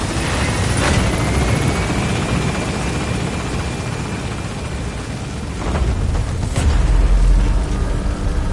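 A P-Quad helicopter gains altitude in Metal Gear Solid V: The Phantom Pain, a loud continuous rotor roar with steady whine and thumping, swelling heavier with deep booming rumbles toward the end.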